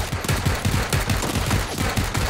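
Rapid automatic gunfire in the battle royale game PUBG, a quick, evenly spaced string of punchy shots from a submachine gun, fairly close and loud, with no talk over it.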